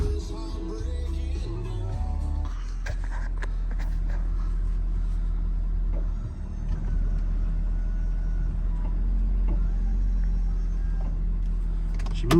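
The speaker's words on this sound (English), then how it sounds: "let's go into the truck and fire it up" A 2018 Ford F550 truck's engine cranks, catches and settles into a steady, rumbling idle, heard from inside the cab with a few clicks and knocks over the low drone.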